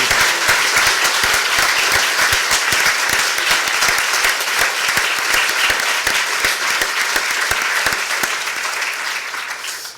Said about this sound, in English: can we have another round of applause to all our filmmakers?